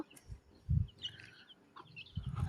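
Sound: hen with chicks clucking

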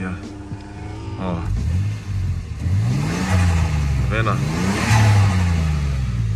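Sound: car engine and exhaust noise heard through open window

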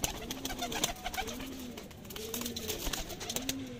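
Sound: pigeons cooing

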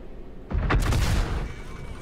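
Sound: tank cannon shot in World of Tanks video game

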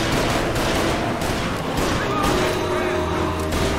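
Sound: gunfire in video game Mafia Definitive Edition

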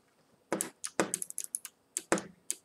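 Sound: computer keyboard typing

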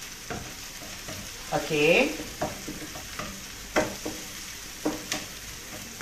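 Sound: sautéing sea cucumber and vegetables in a pan

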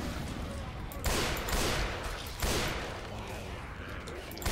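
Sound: grenade rounds fired at zombies in video game Left 4 Dead 2

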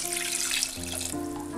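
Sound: water being poured into a cooking pot

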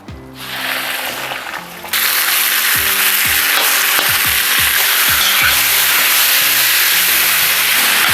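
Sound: pork frying in sunflower oil in a kazan

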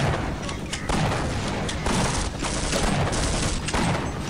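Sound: gunfire in the video game Half-Life

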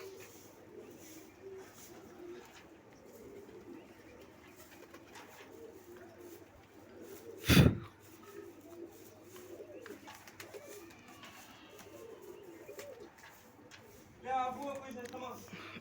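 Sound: pigeons cooing

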